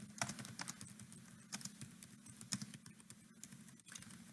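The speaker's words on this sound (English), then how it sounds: "I'm going to type it in." Typing on a computer keyboard: a quiet, steady patter of key clicks with occasional sharper taps, close and alone, no voices over it.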